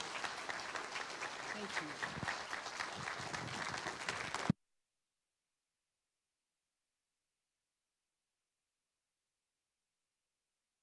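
A seated audience at a literacy awards ceremony gives steady applause for honored guests, with a voice speaking over it briefly, before the clapping cuts off abruptly.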